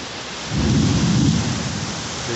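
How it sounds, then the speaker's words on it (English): Loud rumble of thunder rolling in during a heavy rain storm, a single low boom that swells after a moment and fades slowly over steady downpour on a water-covered road. "Big sack of thunder there."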